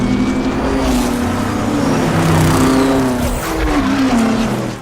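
A race car engine screams at high RPM, a loud continuous roar with shifting pitch, heard in a dramatic scene from the Ford v Ferrari film about Ford's racing program.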